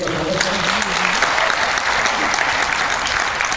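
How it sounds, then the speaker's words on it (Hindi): An audience at a tourism conclave claps in steady, dense applause, loud and close, holding evenly for a few seconds with no break. "उनको जोरदार ताली बजाकर"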